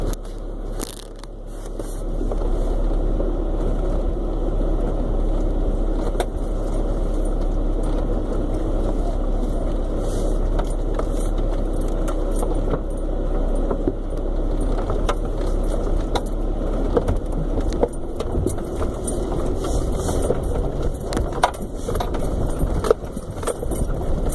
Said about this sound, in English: it's getting a little rocky here, so I'm going to put the camera down and just concentrate on driving.